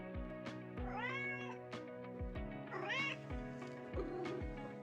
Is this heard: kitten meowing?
yes